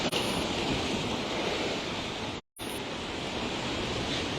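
Ocean waves wash against a broken concrete seawall beside a village road, a steady loud roar of surf with wind buffeting the microphone and a brief dropout midway.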